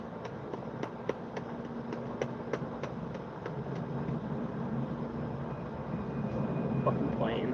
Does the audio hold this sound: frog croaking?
no